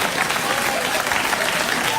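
Studio audience at a late-night talk show bursts into loud, sustained applause that fills the room evenly, a dense wash of clapping heard close and continuous throughout.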